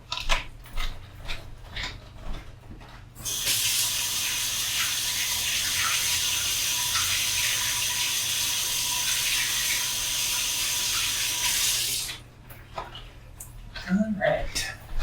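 Tap water runs steadily into a kitchen sink for about nine seconds as hands are washed clean of raw meatloaf mixture, a close, even rush that stops abruptly, with brief talk and small kitchen clatter before and after.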